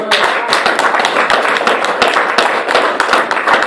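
A church congregation in Brussels claps steadily and energetically through a Sunday service, dense rhythmic hand claps filling the room with continuous loud applause.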